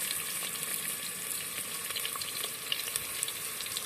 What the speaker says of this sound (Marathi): तर आता कांदा थोडा गरम झालेला आहे आणि त्यामध्ये आता तेल टाकायचं आहे